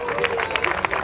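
Applause from a crowd at a youth football tournament trophy ceremony for the smallest player, steady dense clapping over about a second with a few sharper claps standing out, voices mixed in.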